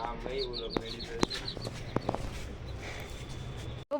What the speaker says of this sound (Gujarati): આ છે મારા કબૂતરાનું ઘર.